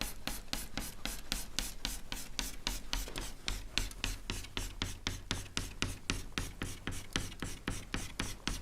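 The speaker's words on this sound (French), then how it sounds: "Donc je peux vraiment colorier ici ma section." A pen scratches steadily back and forth on paper, coloring in a section of a cube in a geometry drawing, producing a fast, even rhythmic rubbing stroke close to the microphone with no talking.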